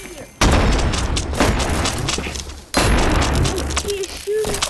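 Video game gunfire in Animal Company's arena mode comes as dense, loud bursts of rapid shots, with sharp onsets and sustained volleys filling most of the few seconds.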